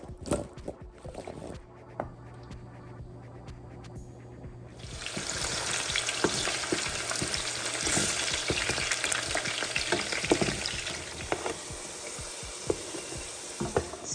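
Salted cassava is stirred in a pan, first with a few scattered clinks and scrapes, then a loud, steady sizzling wash with repeated stirring scrapes, close and without talk.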